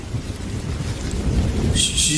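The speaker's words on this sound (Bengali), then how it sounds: "আকাশে তখনও মেঘ ডাকছে ঝিরিঝিরি বৃষ্টি পড়ছে" A low thunder rumble runs under steady light drizzle, a soft continuous wash of rain with a brighter hiss rising near the end; no one speaks.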